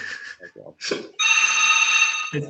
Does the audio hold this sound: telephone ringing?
yes